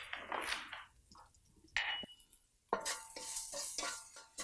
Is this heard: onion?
yes